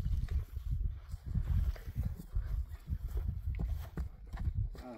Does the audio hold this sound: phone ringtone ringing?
no